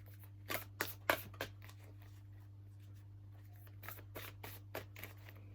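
Cards are shuffled close by in quick riffling bursts, a few sharp flicks early and more later, over a steady low hum.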